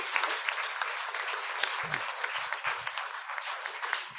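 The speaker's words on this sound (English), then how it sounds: "Let's give them all a round of applause." An in-person audience at a civic development panel gives the panelists a round of applause: dense, lively clapping that carries on steadily for several seconds.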